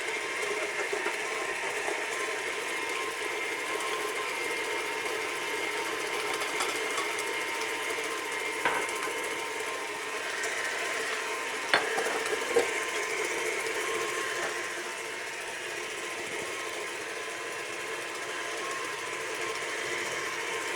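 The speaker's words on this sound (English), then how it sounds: "so I'm going to go over to my mixer. And I have 2 eggs in there." Electric stand mixer beating two eggs until foamy, a steady mechanical whir that runs evenly at constant strength with a few faint clicks, close and alone without speech.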